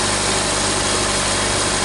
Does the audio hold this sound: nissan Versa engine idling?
yes